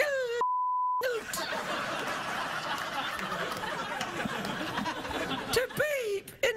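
A single steady censor beep cuts in briefly near the start, surrounded by someone speaking and a murmuring audience with scattered chuckles.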